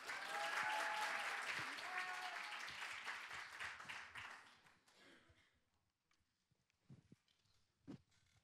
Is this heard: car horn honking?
no